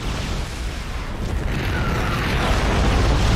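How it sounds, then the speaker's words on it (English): A Yamato cannon blast in a space video game: a loud, continuous, rumbling roar that holds and swells slightly over a few seconds, with no voices. "our long-range Yamato cannon deals even more"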